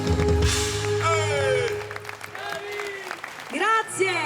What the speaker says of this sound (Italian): sentire un grandissimo applauso